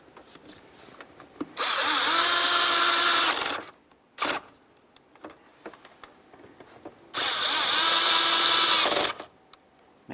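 A power drill snugs the mounting bolts of a mass airflow sensor on a 2006-2010 Ford Explorer, running in two bursts of about two seconds each, whining loudly between soft clicks and handling noises.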